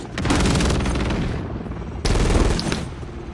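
Automatic gunfire in a Modern Warfare 3 multiplayer match, loud rapid bursts up close, a long volley, a brief lull, then another sharp burst.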